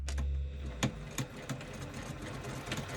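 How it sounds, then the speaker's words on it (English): A sewing machine runs a second line of stitching through bag fabric, its motor humming steadily with faint rhythmic clicks and a few sharper knocks over three seconds, close and fairly quiet. "I'm going to do a second line of stitching just outside of that first line of stitching"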